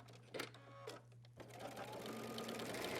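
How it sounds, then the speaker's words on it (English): A sewing machine stitches the center back seam of a fashion hoodie's hood at a 5/8 inch seam allowance, with short bursts of whirring at first, then a continuous, close, steady run. "we're going to sew around that center back edge of the hood"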